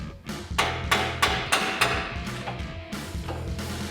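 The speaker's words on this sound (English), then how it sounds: "we're going to whack right here with a hammer to get our outer tie rod out" Hammer striking the steering knuckle to knock out the outer tie rod on a RAM 1500 front end, about ten sharp metallic whacks in a steady rhythm, close and loud, with no talking.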